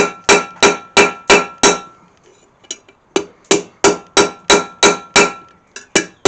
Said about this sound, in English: to widen those, we're going to use the edge of the anvil.